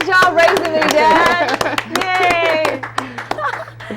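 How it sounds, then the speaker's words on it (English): A small group claps and cheers for a dad on a sports talk show, with close, loud, quick claps and voices talking and laughing over the clapping throughout. "round of applause"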